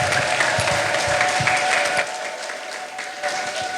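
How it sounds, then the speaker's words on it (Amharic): A church congregation claps loudly together during a sermon, a dense, steady burst of applause with a high sustained tone from the sound system, easing after about two seconds and then continuing more softly. "ለኢየሱስ ክብር አጨብጭቡ።"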